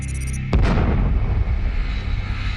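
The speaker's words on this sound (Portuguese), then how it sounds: "os satélites captaram a maior explosão cósmica já registrada." A single deep explosion for a cosmic burst lands with a sharp, loud hit, then a heavy low rumble rolls on and slowly fades.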